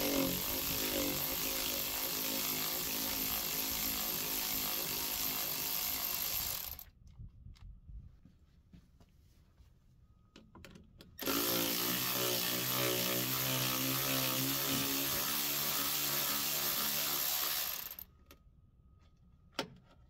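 A power tool drives out bolts with a 7/16 socket on the seal plate of a chemical seed spreader's hydraulic spinner motor, running in two loud sustained bursts of whirring and ratcheting separated by a few quiet seconds.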